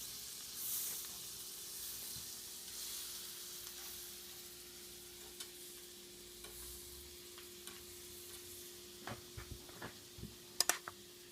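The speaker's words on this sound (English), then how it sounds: "You can see the butter's sizzling." Butter in a frying pan, with the pan still holding juices from browned beef, gives a faint, steady sizzle, joined near the end by light clicks of a utensil against the pan before mushrooms go in.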